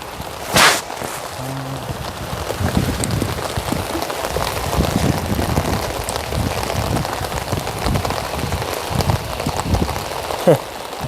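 Heavy rain falling on a surface around a house, a dense constant patter and hiss that fills the whole stretch, with a few brief nearer knocks and chirps breaking through.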